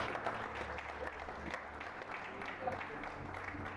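Congregation at a pastors' seminar in Caracas gives sustained applause, a dense, moderately distant wash of clapping with voices mixed in underneath.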